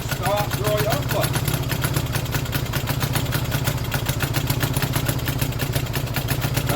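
An old Stuart Turner boat engine idles with a steady, fast low putter and a metallic rattle throughout, loud and close.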